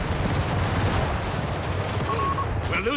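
Machine gun fire rattles in the World War II strategy game Company of Heroes 3 during a 2v2 match, mixed into a dense, constant wash of battle noise with distant explosions.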